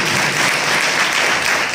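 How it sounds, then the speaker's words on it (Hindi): A church congregation claps loudly in thanks during a worship service, a dense, continuous wall of applause holding steady and full throughout with no pauses. "जोर से ताली बजाकर धन्यवाद करते हैं।"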